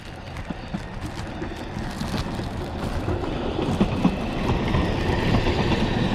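A patched train passes on a line nearing its end, a steady rolling roar and faint rhythmic clatter of wheels on track, growing slightly louder toward the end.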